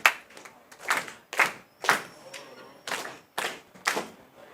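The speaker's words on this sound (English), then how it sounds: "Clap your hand for him." A classroom group claps hands in about eight short, distinct bursts of rhythmic clapping, each separated by a brief pause, close and fairly loud.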